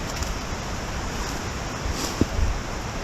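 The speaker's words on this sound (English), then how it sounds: "Another gorgeous cascade waterfall down here." A cascade waterfall at Adkins Canyon Falls in Arkansas's Ozark National Forest gives off a constant broadband rush of falling water, steady and enveloping, with no voices over it.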